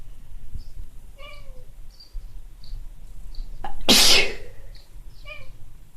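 A person lets out a single loud, close sneeze midway, set against soft chirping bird or insect sounds in a quiet room.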